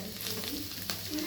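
Mutton pieces fry in a hot pan with a steady crackling sizzle, short and fairly soft, with a few brief stirring clicks.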